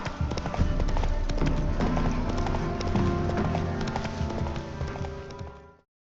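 Roach, a horse in The Witcher 3: Wild Hunt, gallops with steady, loud clip-clopping hoofbeats that fill the moment from start to finish. No one speaks.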